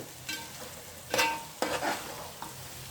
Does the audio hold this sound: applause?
no